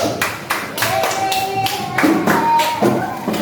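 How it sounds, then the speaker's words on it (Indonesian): Classmates clap for group 1 in a classroom, a few loud bursts of close hand claps with pauses between them, over a faint sustained tone. "tepuk tangan untuk kelompok 1"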